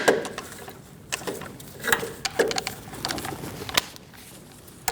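Ratcheting wrench clicks in short bursts as a control arm bolt is loosened on a 2016-2019 Chevrolet Cruze, close and moderately loud with metallic taps and pauses between strokes.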